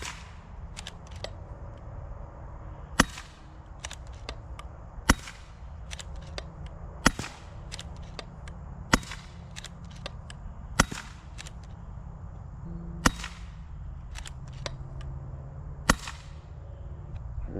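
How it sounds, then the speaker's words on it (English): Pinty Striker PCP air rifle shots outdoors: sharp, fairly quiet snapping cracks repeating roughly every one to two seconds, about eight distinct shots plus softer clicks between them, over a steady low background hum. "Now this gun is pretty darn quiet. It is backyard friendly."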